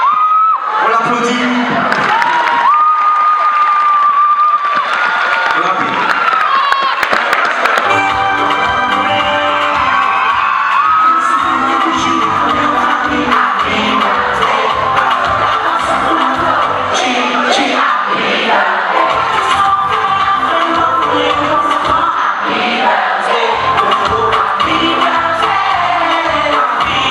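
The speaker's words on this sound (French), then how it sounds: "On l'applaudit." A loud crowd at the Trace Mobile Show 2013 cheers, whoops and shouts continuously over a long stretch, with voices and musical tones mixed into the din.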